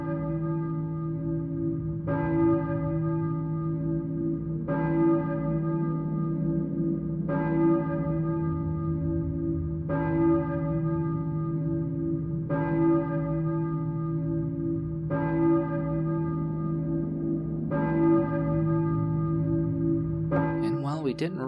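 Church bells toll in the Silent Hill video game, slow, resonant strikes repeating roughly every two and a half seconds over a low droning ambience, each ring fading out before the next.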